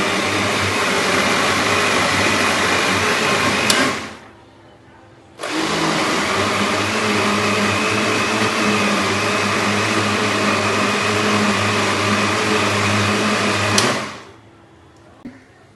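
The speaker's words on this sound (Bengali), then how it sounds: "এবার এই যে আমি ব্লেন্ড করে নিচ্ছি।" An electric blender whirs loudly and steadily while blending a fruit smoothie, running in two long bursts separated by a short stop, then cutting off near the end.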